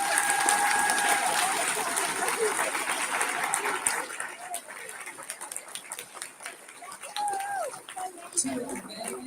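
An audience of schoolchildren and families at a school Veterans Day program claps for veterans. Dense applause fills the first few seconds, then thins into scattered claps and murmuring voices.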